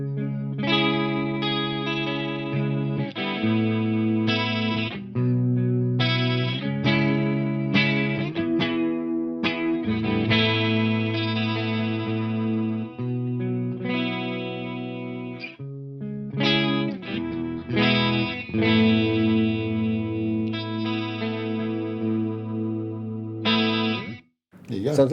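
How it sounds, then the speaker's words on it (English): Electric guitar through a Walrus Audio Julianna stereo chorus pedal, playing chords and melodic phrases with a shimmering, wavering modulated tone, close and steady, ending with a short burst of noise. "So we've got different subdivisions of the chorusing effect."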